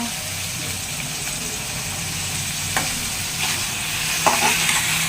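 Chopped onion fries in a pan for a paneer dish, giving a steady close sizzle with a few faint clinks and stirring scrapes near the end.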